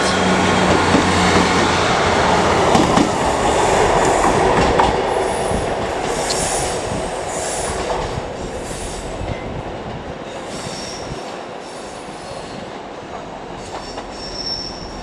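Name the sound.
Northern train 158791 at Leeds station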